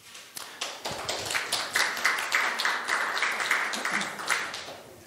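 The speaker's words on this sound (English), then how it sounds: "Please, an applause for him." A conference audience claps for a speaker at a Debian talk. Scattered claps build into steady, fairly close applause that holds for several seconds.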